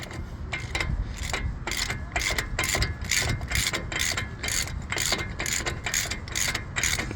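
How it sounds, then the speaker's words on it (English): A ratchet tightens the axle nut on a 2006 Ford F150 during wheel bearing and rotor replacement, giving a steady series of close, crisp clicks in repeated rhythmic strokes throughout. "So right now I'm going to go ahead and tighten this lug nut, the axle nut."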